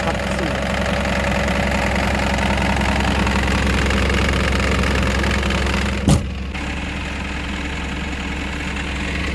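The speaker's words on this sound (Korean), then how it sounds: "엔진이 떨림이 하나도 없어요" A newly replaced engine idles evenly with a constant low, loud drone and no rough shudder; a brief sharp knock or click cuts in about two-thirds of the way through, after which the idle continues slightly quieter.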